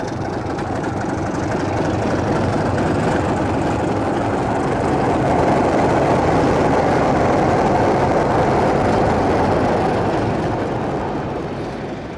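A BRCW diesel locomotive on a suburban train at Cambridge, 1959, gives a steady, loud, rumbling engine drone that swells slightly in the middle and holds throughout.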